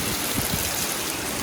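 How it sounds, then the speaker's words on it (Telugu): Heavy rain pouring steadily during a scenic road trip, a dense continuous hiss of water close by with no talk over it. "గట్టిగా పడుతున్నది వర్షం అయితే పొద్దున్న నుంచి"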